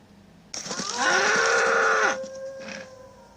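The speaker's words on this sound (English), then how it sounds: "but an angry bull." A single loud, drawn-out bellow from an angry bull, close and sustained for about a second and a half before breaking off, with a faint trailing call after.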